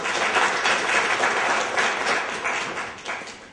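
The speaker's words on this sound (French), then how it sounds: "M. Kwame Nagy, que je vous demande d'applaudir" Applause from a debate audience at a community event in the Washington DC area, a steady wash of clapping hands sustained for several seconds and gradually easing off, with no speech over it.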